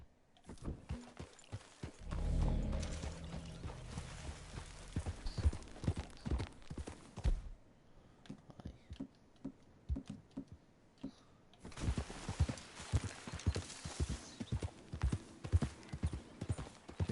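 Horse hooves clip-clop in a video game, a rapid run of sharp hoofbeats that drops to sparser, quieter steps midway and then picks back up.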